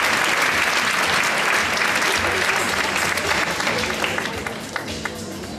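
A seated audience at a graduation ceremony gives sustained, dense applause for graduates on stage, the clapping loud and even before gradually thinning toward the end.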